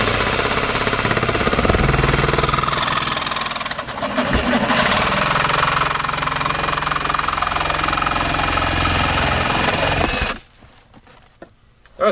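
A cordless saw cuts during under-sink plumbing work in a kitchen remodel, running as a loud, steady buzzing grind for about ten seconds with a brief dip partway through before stopping abruptly.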